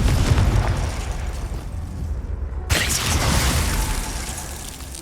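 A Confringo spell explodes in Hogwarts Legacy, a loud, broad blast rising over dense rumbling game noise, with a sharp burst near the middle followed by a sustained roar.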